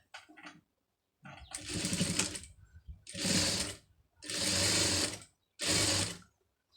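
A sewing machine stitching a side seam runs in four close, loud bursts of rapid mechanical whirring, each lasting about a second, separated by short silent pauses.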